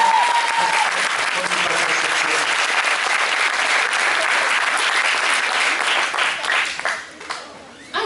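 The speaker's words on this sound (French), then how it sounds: "on peut encore applaudir" Audience applause fills the hall at a cosplay contest, heavy and continuous clapping from a large crowd that holds steady for several seconds before tapering off near the end.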